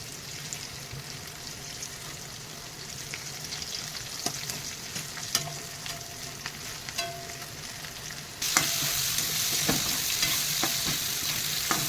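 Chopped garlic sizzles with mushrooms in a pan, a continuous crackling fry punctuated by sharp stirring clicks of a utensil, the sizzle jumping noticeably louder partway through; no talking.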